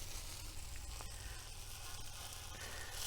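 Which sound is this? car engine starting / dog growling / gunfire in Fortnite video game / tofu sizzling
tofu sizzling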